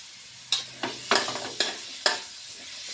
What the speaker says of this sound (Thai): เอาหมูลงผัดนะคะ ลงผัด ผัดให้มันหอมนะพี่ กับพริกแกงใต้นะคะ